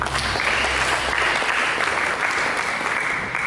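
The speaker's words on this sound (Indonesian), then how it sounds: "Mari kita berikan tepuk tangan." A church congregation applauds during a sermon, a dense, steady wash of clapping that fills the room and carries on evenly throughout.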